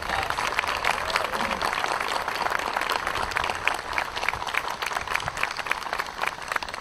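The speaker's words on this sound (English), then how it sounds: "Can we give them a big round of applause?" A crowd at a Navy retirement ceremony applauds for several seconds, a broad, even wash of clapping that holds steady throughout, with faint voices murmuring beneath.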